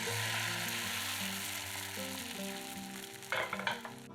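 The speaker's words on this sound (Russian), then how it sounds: "Из приготовленной яичной массы жарим блины." Egg pancake batter sizzles and crackles steadily in a hot oiled pan, a constant frying hiss close by, with a few soft clinks near the end.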